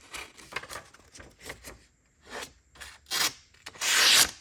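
A knife draws repeated short slicing strokes through a wooden gun stock, each pass a close, dry rasping scrape with brief pauses between, ending in a longer, louder stroke.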